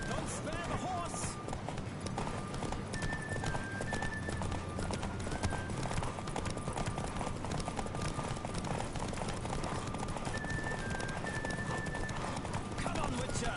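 A horse galloping hard in a race in The Witcher 3, hooves pounding in a fast, unbroken rhythm for over ten seconds, near and loud, with occasional snorts, a whistling tone and voices speaking over it.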